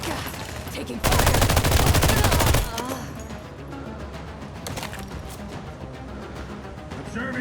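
Rapid automatic gunfire in The Expanse: Osiris Reborn erupts in a loud sustained burst, then gives way to scattered distant shots and quieter combat noise.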